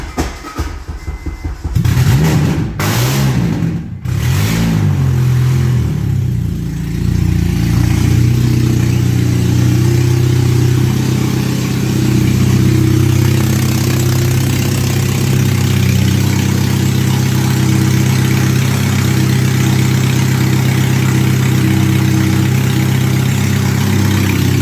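A K-swapped Honda Integra with an open header cranks a few times, catches, and settles into a loud, rough, steady idle with a deep rumble that fills the rest of the recording.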